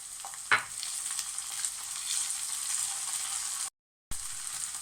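Ginger garlic paste sizzles and fries steadily in hot oil in a pan for a red kidney bean curry, a close, continuous crackling hiss with one sharp spatter burst early on and a brief dropout near the end.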